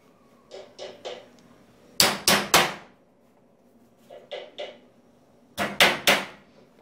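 Nails are hammered into a teen bed frame during furniture assembly, with groups of sharp knocks in quick bursts of three: softer taps first, then louder, heavier blows, repeated with short pauses between.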